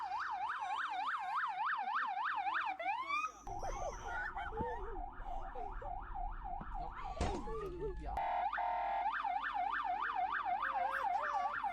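A loud electronic siren cycles in rapid repeating wails, briefly cutting out and changing pattern midway before resuming.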